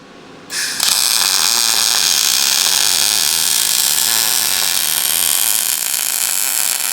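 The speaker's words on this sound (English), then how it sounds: "welding onto the differential" A Vulcan welder from Harbor Freight lays beads onto a 14-bolt differential housing. After a brief quiet start, it breaks into a loud, steady crackling hiss that runs unbroken to the end.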